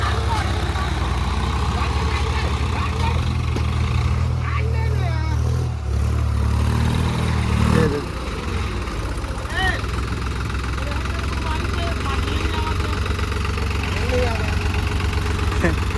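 A Swaraj 855 tractor engine runs at around 1400-1500 RPM while stuck, a loud steady low rumble throughout with a brief change near the middle, and people talk over it.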